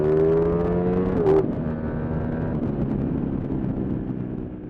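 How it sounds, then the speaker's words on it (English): A Ducati Streetfighter V4 S motorcycle's V4 engine and exhaust rev up to a sharp peak, then drop back to a steady, throaty running note, loud and close with some wind noise. "as you climb into the revs, you get a noticeably distinct V4 wail"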